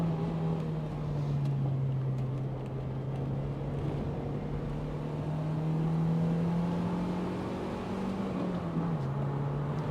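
An MG TF mid-engine sports car is driven hard through a corner, its engine droning steadily up close with a sustained tone that rises slightly and then dips near the end, over steady road and wind roar.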